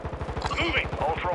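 Rapid automatic gunfire in a first-person shooter video game, a fast, even burst of close, punchy shots repeating steadily through the whole moment, with distorted radio chatter layered over it.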